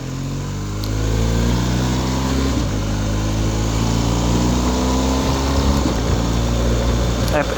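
BMW R1250GS motorcycle engine under way, a loud steady drone with a low harmonic hum and shifting pitch as the rider accelerates, continuous wind rush throughout the ride.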